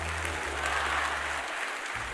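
A church congregation clapping warmly during a service, a sustained wash of hands that thins out near the end, with no voice on top.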